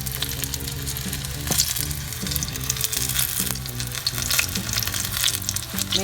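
Mushrooms frying in hot oil for vegan buttermilk fried chicken, a loud, close, bubbling sizzle that crackles continuously with sharp pops throughout and no speech over it.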